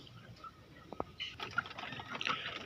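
Water is poured into a container, a faint trickling that builds and brightens over a couple of seconds after a few small clicks.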